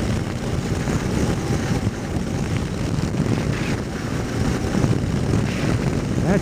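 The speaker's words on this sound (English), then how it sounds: "God damn, this wind sucks" Strong wind buffets the microphone with a constant, loud rumbling roar and no pauses.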